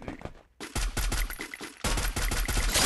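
Rapid bursts of gunfire in a Free Fire mobile video game match against a bot, crackling shots in quick succession, then a brief lull before another dense volley.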